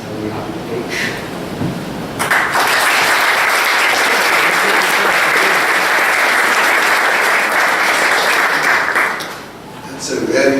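An audience at a design conference breaks into applause, a dense, loud wash of clapping starting suddenly after a moment of talk and holding steady for several seconds before tapering off, with voices heard before and after.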